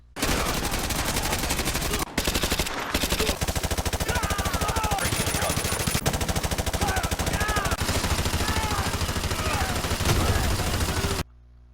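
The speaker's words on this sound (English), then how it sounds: "Or you can switch to fully automatic and go guns blazing." Rapid fully automatic gunfire in the video game Call of Duty: Modern Warfare 2 rattles in long sustained bursts with a brief gap, loud and dense, mixed with chaotic battle effects and occasional voices.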